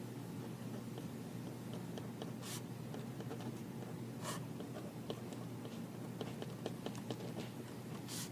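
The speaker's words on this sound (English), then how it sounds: "let me write down the code for this." Pen scratching on paper as a course code is written by hand, soft close scribbling strokes with faint taps over a low steady room hum in a quiet setting.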